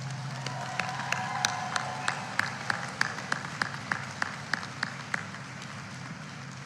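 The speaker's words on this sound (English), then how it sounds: "let's give those people who love us a great hand of applause" Sparse applause from a graduation ceremony audience, with scattered individual claps standing out over a steady low hum and murmur, moderately distant and fairly light.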